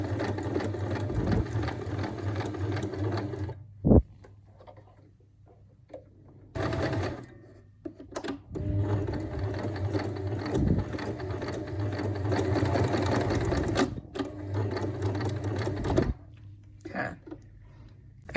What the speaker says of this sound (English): So I'm just gonna sew the elastic.